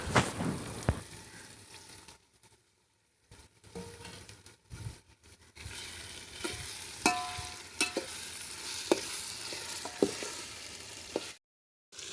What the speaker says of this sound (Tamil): இப்போ நல்லா கிளறி விட்டுக்கலாம் தக்காளி போட்டுக்கலாம்